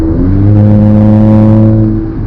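A Mercedes A45 AMG engine revs loudly and steadily in sport mode, its deep droning tone rising and holding before easing off at the end.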